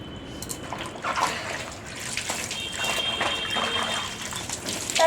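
Water drains and trickles from freshly washed trousers, an uneven splashing flow with brief gushes, moderately close and fairly quiet, with a faint thin whine in the background.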